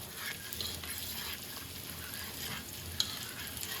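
Spiced tempering for dal sizzling in a pan, a steady close hiss and crackle with a brief sharp pop near the end, no voices.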